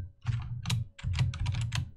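Code being typed on a computer keyboard during a Unity game-development tutorial: rapid, close, crisp key clicks in quick uneven bursts with a short pause, no voices.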